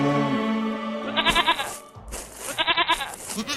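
Several quavering goat bleats from a video game in a row, loud and close, each with a shaky vibrato, separated by short pauses and no speech.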